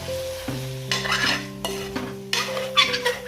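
Chicken biryani, with the chicken nearly cooked, is stirred and mixed in a pot. Brisk scraping and clattering strokes of the utensil come in bursts against steady background music, with no talking.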